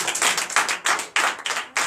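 A church congregation at a Sunday worship service in Benin claps in acclamation, a rhythmic run of loud, close group claps in steady bursts about every third of a second.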